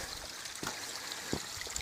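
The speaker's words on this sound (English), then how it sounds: "Second little creek along the trail." A small creek beside a hiking trail trickles quietly, a soft, steady babble of water with no voices.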